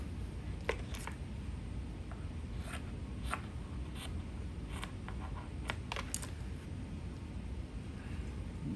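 Scissors cutting fabric for a facing when sewing with an invisible zipper, heard as scattered short crisp snips over a soft, steady background hiss.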